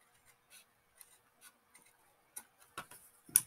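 Paper card being cut with scissors to shape a gift card holder: a series of light, crisp snips spaced irregularly, growing louder and denser toward the end, close up and with no talking.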